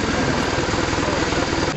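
A new BMW four-cylinder motorcycle engine idles close by at a motorcycle club run, a steady low throbbing rumble that holds even for the whole short stretch.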